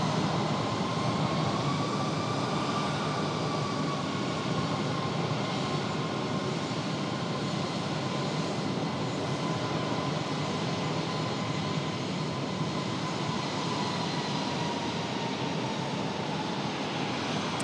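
An Aer Lingus airliner bound for Dublin rolls for takeoff on runway 5 right at Raleigh-Durham, a loud continuous jet roar with a faintly sweeping whine holding steady throughout.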